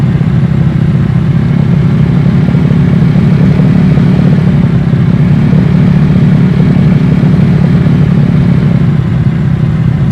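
A TVS Apache motorcycle at speed on a race track gives a loud, steady engine drone with constant mid-low roar and no breaks, heard close throughout.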